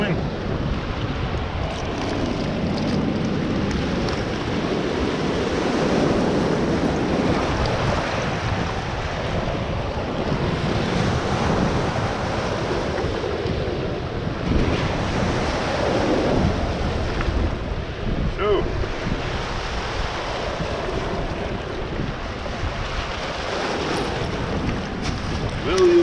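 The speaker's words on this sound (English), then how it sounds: "waves coming." Waves surge and wash onto a river foreshore while mudlarking, a steady rushing swell of water mixed with heavy wind buffeting the microphone, close and loud throughout, rising and falling in slow surges.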